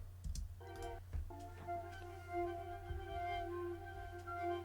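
Feathered flute sample rendered dry with no effects: sustained airy tonal notes holding steady pitches, with a few soft breathy attacks near the start, over a constant low hum, moderately quiet and alone.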